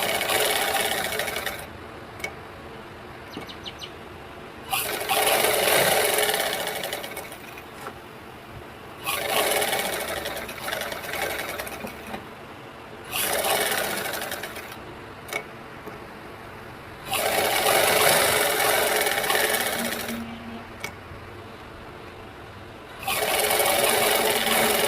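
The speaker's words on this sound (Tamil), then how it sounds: "சுற்றி அப்படியே ஓர தையல் அடிச்சுக்கலாம்." A sewing machine runs edge stitching around a lining blouse in five or six bursts of steady mechanical whirring, each lasting a few seconds and separated by quieter pauses with small clicks and handling sounds.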